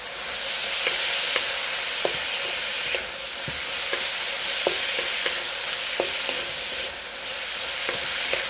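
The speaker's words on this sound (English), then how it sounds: "keep on sauteing it." Pork sautéing dry in a hot pan hisses steadily while a utensil stirs it, sending out scattered light clicks and scrapes against the metal throughout.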